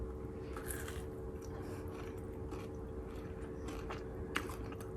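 Someone bites and chews a crunchy peanut butter brownie topped with chocolate ganache, giving soft, close, irregular crunches over a quiet background, with one sharper crunch near the end.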